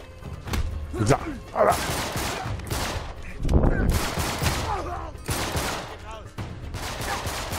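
Rapid bursts of gunfire in the video game Uncharted 3, set in a desert, crackle in clustered volleys throughout, with someone talking over the shooting.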